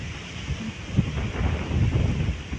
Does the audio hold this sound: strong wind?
yes